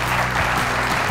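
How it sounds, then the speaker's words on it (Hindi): Studio audience applause for a comedian on a television show, a brief, dense burst of clapping, loud and close. "आप गोगा जी के लिए तालियां बजाएं, गोगा होशियारपुरी के लिए"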